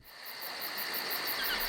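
Steady chirping of crickets fills a quiet nocturnal forest ambience, with a pulsing rhythmic trill high above a soft background hum.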